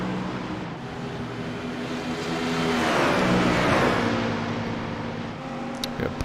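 Race car engines, including an Audi, roar around Watkins Glen in a sim racing game, a loud sustained drone that swells as cars pass and fades again.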